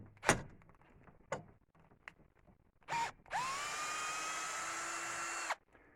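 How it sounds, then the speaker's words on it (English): A handheld power drill spins up and runs steadily for about two seconds with a sustained high whine, close and loud, after a few scattered knocks and clanks from working on a wooden mallet with a rebar handle. "I think now the drill will work,"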